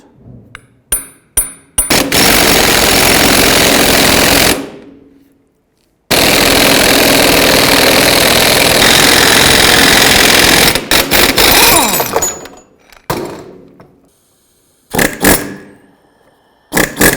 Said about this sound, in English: we're just going to go ahead and use a hammer just to try and set that